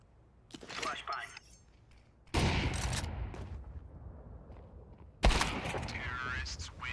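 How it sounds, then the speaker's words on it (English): A flashbang grenade goes off in Counter-Strike 2 during a competitive match: two sudden loud bursts with a sharp onset and long ringing tails, surrounded by gunfire and game noise. "Flashbang."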